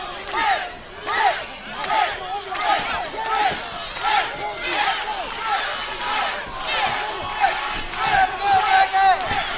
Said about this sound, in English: We're now in a chanting war from the respective crowds here.